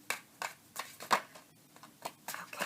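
Tarot cards are shuffled by hand in short, soft riffling bursts, several quick papery flutters separated by brief pauses, close but quiet.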